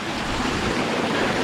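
Water flows steadily over rocks at a stream crossing on the Welch Dickey loop trail in winter, a continuous broadband rush close to the microphone with no talk.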